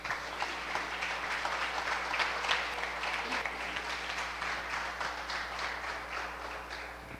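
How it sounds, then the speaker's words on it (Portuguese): A congregation at an evening celebration service claps vigorously in praise. The applause is steady and sustained over a low constant hum, moderately faint, and runs for about seven seconds. "Aplaude bem forte então ao Senhor Jesus"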